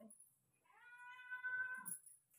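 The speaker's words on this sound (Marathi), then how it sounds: "बघा मांजर मीचा इथंच बसलेला असते." A cat gives a single drawn-out meow, close and clear, with a faint rustle before and after and no talking.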